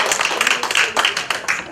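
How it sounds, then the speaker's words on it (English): An audience at a college lecture series claps for the panelists, with a loud, close burst of many hands that holds steady for nearly two seconds. "So please join me in a round of applause."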